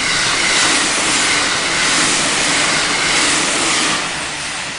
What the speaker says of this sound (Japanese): あ、電車かな。